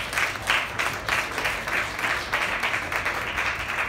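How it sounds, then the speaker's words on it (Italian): An audience applauds a guest of honour at a Bergamo Film Meeting talk, with dense, steady clapping from a room-sized crowd filling the whole stretch at moderate level and no speech over it. "Fare un applauso."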